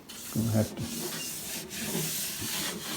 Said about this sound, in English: Just use some steel wool.